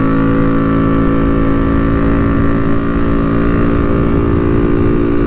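A Honda Navi engine held at wide open throttle on a road top speed run, a loud, steady, high buzzing drone sustained throughout with no talking.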